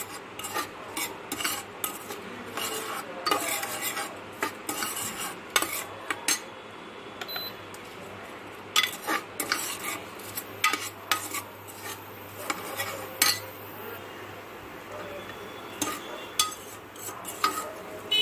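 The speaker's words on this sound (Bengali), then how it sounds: "মিশ্রণটা এর মধ্যে ঢেলে নাড়ছি।" A spoon stirs and scrapes a spice-powder mixture frying in oil in a metal pot, giving repeated irregular metallic scrapes and clinks over a faint sizzle for a long stretch, with no voices.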